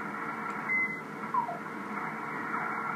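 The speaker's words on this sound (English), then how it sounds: "There are plenty of signals on here, especially on phase shift keying. Hear all that?" Steady radio static on the 20-meter amateur band with a band of overlapping warbling phase shift keying digital tones, continuous and moderately loud, punctuated by a few faint chirps.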